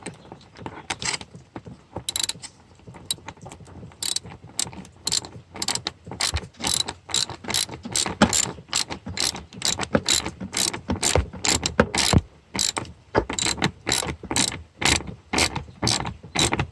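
A ratchet clicks rapidly and repeatedly while tightening a Toyota car battery terminal, a close, crisp run of pawl ticks in uneven bursts with no speech.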